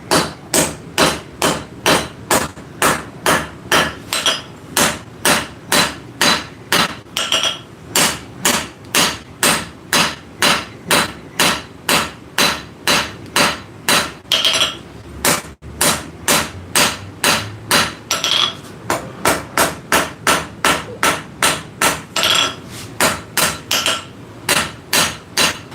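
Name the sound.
hammer forging hot metal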